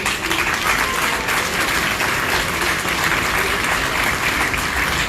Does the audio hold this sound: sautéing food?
no